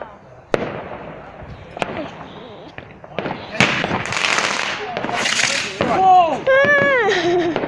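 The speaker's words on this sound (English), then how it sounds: "Somebody tossed a firework." Fireworks going off on bonfire night outdoors, a series of sharp pops and crackling bursts at varying distances, ending in whistling, warbling rocket tones, with people talking over them throughout.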